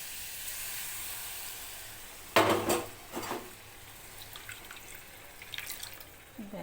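Rinse water from a mixer grinder jar poured into a cooking pot, a short splashing gush of about half a second followed by a smaller trickle, against a quiet kitchen background.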